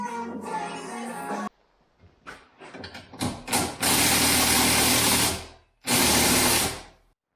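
A tool works Allen bolts loose from the bars of a CFMoto Uforce 1000XL UTV, heard as a loud mechanical whirring in several long bursts separated by short pauses, with ratcheting clicks in between.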